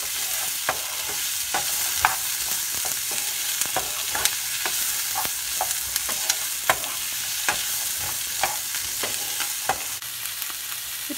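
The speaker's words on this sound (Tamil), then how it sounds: "இப்போ நம்ம இஞ்சி பூண்டும் கொஞ்சம் வதங்கினதுக்கப்புறம்" Onion, ginger and garlic sauté in a pan for a green peas gravy, a continuous close sizzle punctuated by frequent light taps and scrapes of stirring, with no voices.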